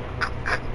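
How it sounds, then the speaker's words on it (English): A crow in the video game Until Dawn gives two short, harsh caws about a quarter second apart, clear and close over a low steady background hum. "Is that a crow?"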